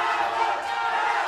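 A crowd roars and cheers for the local fighter in the final minute of a Fusion Fighting Championship bout, a sustained, steady arena din with a commentator talking over it.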